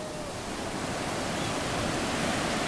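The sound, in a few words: ocean waves at Virginia Beach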